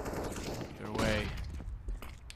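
Rapid gunfire spray in the video game CS:GO, a short burst of quick shots heard a little distant under other game sounds and a commentator's voice.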